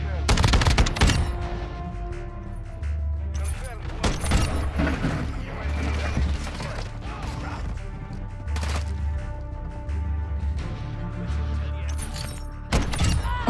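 Shotgun blasts in Modern Warfare 2, loud sharp reports scattered through the clip with bursts of rapid gunfire and crashing impacts, close and punchy between quieter gaps.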